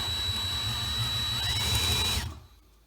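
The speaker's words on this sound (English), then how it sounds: "now I'm done with drilling" A power drill bores a hole through a door being prepared for a lock. Its steady, high whine holds close and even before cutting off abruptly near the end.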